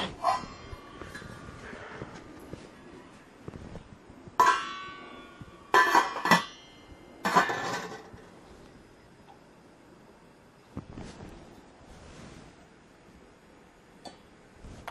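A spoon stirs grain in a small brew-in-a-bag mash pot for a two-gallon imperial chocolate coffee stout. Sparse knocks and scrapes against the pot come in short bursts between quiet gaps.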